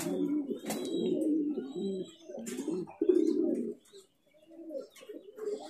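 Fancy Black Lahori pigeons coo in low, repeated bursts nearby, with a few higher chirps and calls mixed in, over several seconds and with a short pause near the end.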